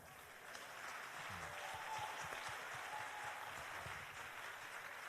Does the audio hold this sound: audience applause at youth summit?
yes